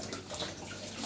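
Shower water running during a bath, a steady close wash of spray and splashing water filling the whole short moment, with no talk over it.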